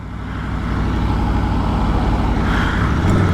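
A 2023 Aprilia Tuono 1100 V4 Factory motorcycle engine on a test ride gives a steady, loud, close rumble that swells slightly toward the end, with no voices.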